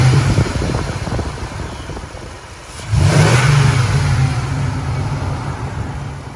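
A 2003 first-generation Dodge Durango with the 4.7L V8 engine idles low, dips briefly, then is revved with a strong, sustained throttle blip that settles into a loud, close rumble.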